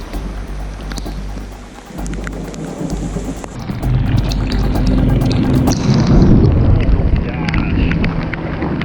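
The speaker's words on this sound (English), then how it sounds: "There's too much thunder going on right now, and I do not like it." Thunder rolling through a rainstorm over the water on a bass fishing trip, with steady rain noise throughout and deep rumbles that build louder toward the end.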